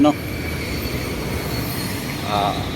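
An MRT train at Shaw Boulevard Station rumbles loudly up close, with a steady rolling clatter and a brief high screech of wheels near the end.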